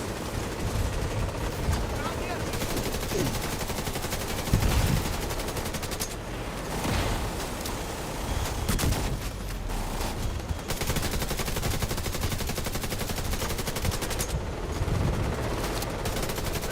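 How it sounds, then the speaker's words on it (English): Heavy gunfire in The Division 2, continuous dense automatic bursts and explosions with a droning vehicle or turret underneath, loud and sustained throughout, with a player talking over it. "Taking heavy fire."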